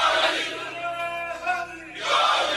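A crowd at a religious gathering marking the Battle of Badr chants a slogan in unison, a loud collective shout that swells, holds and rises again, close and reverberant.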